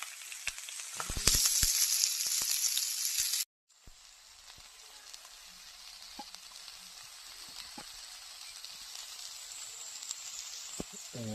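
Mixed vegetables with leafy greens sizzle and hiss steadily in a hot pan, with a loud burst early on, a brief cut to silence, then a quieter continuous fry dotted with small pops; no one talks.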